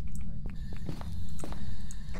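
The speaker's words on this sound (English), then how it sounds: "I hear footsteps." Footsteps in the horror video game Phasmophobia: a handful of soft, evenly paced steps over a steady low rumble of game ambience, with no one speaking.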